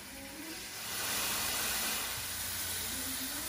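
Onion and garlic cooking in a pan for a light and easy Bolognese give off a steady broadband sizzling hiss that holds throughout, swelling slightly partway through, with no talk.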